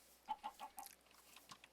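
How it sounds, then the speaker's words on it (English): Minecraft chicken clucks four times in a quick, even series, faint and alone, followed by a few softer scattered clucks. "Hopefully this chicken doesn't wander too far,"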